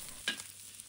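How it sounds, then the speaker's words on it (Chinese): Dried shrimp, squid, lotus seeds and soaked shiitake mushrooms tossed into hot oil in a wok with a spatula: a quick burst of sizzle and scraping, then a short fading hiss with a small clink near the end. "干虾仁、干鱿鱼、莲子倒入锅中，随着锅铲的翻动，食材在热油中发出滋滋声响"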